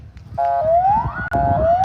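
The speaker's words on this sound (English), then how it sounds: "Some siren going off inside the school." An electronic siren sounds inside a school beside a baseball game, a loud rising wail that repeats twice over a murmur of crowd and ambient noise.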